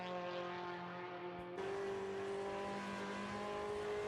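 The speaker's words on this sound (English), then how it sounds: "Downshifting for Stowe." A 1973 British Formula 3 race car brakes into Stowe at Silverstone, its high-revving engine a steady loud whine that jumps to a new pitch on a downshift partway through.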